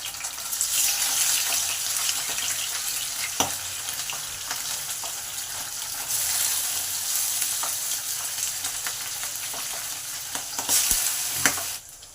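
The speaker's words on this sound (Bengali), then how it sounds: "এই সময় মাছগুলোকে এক এক করে তেলে দিয়ে দেবো।" Pabda fish frying in hot oil in a home kitchen, a continuous loud crackling sizzle that swells and eases, with a few sharp clatters of utensils.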